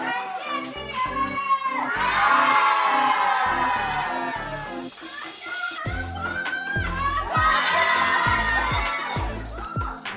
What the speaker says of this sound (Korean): 중국 여자 대표팀 선수단은 환희에 가득 찬 모습으로 승리를 축하하며 결승에서 한국을 잡고 우승컵을 가져오자고 큰 소리로 외치며